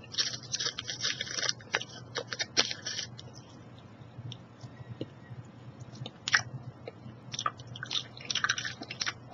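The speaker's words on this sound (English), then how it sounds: "I know you guys love chewing gum, and I do too, so I'm going to choose some Trident." Trident gum being chewed close to the microphone for ASMR, with wet, squishy smacks and clicks in irregular bursts, some pauses, and no talking.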